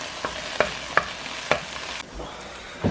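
Onions and peppers fry in a pan until the onions turn yellow, a soft constant sizzle marked by four or five crisp spatula taps and scrapes, close and with no one talking.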